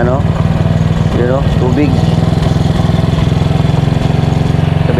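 A motorcycle engine fires up and settles into a steady, loud idle close by, with a person talking over it at the start.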